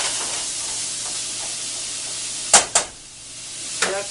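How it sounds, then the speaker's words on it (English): Bacon and onion frying in a pan: a loud, steady hiss of sizzling fat, broken by a couple of sharp scraping clacks of a utensil against the pan. "And you're going to cook that until the onion is lightly brown"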